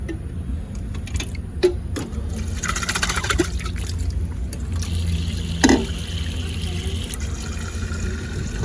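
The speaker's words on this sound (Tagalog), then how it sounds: "Ay, lagyan natin ng tubig to." Cold water running into a bottle at an outdoor park, a close rushing trickle with gurgling bursts and clicks, heard over faint background noise and bird calls.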